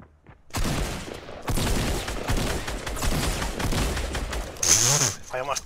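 Dense, rapid Fortnite video game gunfire rattles almost continuously at moderate loudness, with a voice talking over it toward the end.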